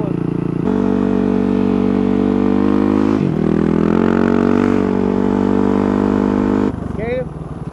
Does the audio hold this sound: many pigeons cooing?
no